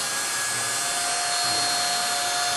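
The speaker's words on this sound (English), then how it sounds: "here we have a standard power drill" A standard power drill runs nearby with a continuous, steady whine that holds at an even level throughout, with no speech.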